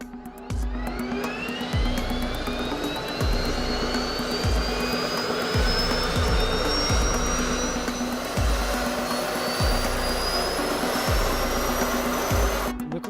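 A 1,500-horsepower gas turbine diesel engine of a 72-ton military vehicle runs, its high turbine whine rising steadily over a loud continuous roar, with repeated low thumps throughout.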